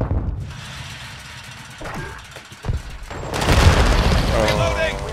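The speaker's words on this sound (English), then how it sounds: "Stun grenade out!" A stun grenade detonates in a shooter video game with a deep boom amid gunfire and voices, followed by a sustained bright blast noise with ringing tones.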